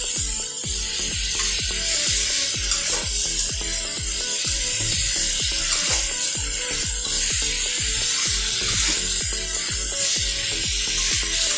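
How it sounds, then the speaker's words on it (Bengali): Salted vegetables, ash gourd and sweet pumpkin, fry in a pan while being stirred, giving a run of regular scraping strokes over a constant bright sizzling hiss, close and loud, with no talking. "এবার আবারও ভালো করে মিশিয়ে নিচ্ছি। যেহেতু লবণ দিয়েছি ভালো করে লবণটাকে সব সবজির সাথে মিশিয়ে নিতে হবে।"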